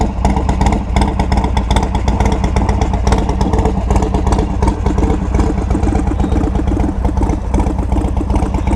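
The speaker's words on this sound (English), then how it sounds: "I just love the way this bike sounds with that 1275 kit, that D&D exhaust" A Harley-Davidson Low Rider ST fitted with a 1275 big-bore kit and D&D exhaust rumbles loud and close, its deep, lumpy V-twin cadence steady throughout with slight throttle variations.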